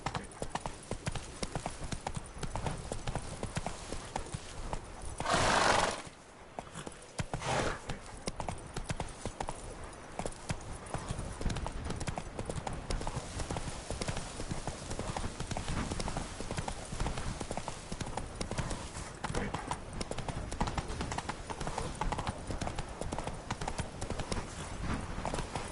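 A horse gallops in Witcher 3, its hooves clip-clopping in a rapid, steady rhythm throughout, briefly broken by a short burst of other noise near the start, with no voices.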